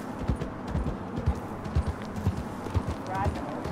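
Horses being ridden in a Wild West video game, clip-clopping hooves in a steady trotting rhythm, close and distinct, with a brief whinny near the end and faint background ambience.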